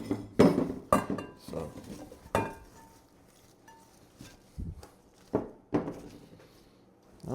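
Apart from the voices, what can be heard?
pots clanking while moving cabbage to a bigger pot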